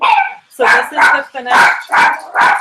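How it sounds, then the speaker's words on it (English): Indoor dogs bark repeatedly in quick bursts, loud and close, while someone talks over them. "Sorry about the dogs barking."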